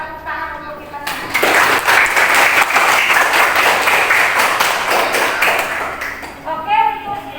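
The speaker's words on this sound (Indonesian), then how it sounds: "Tepuk tangan untuk kita semua." A class of students bursts into loud, sustained group applause for several seconds, bracketed by a teacher speaking before and after.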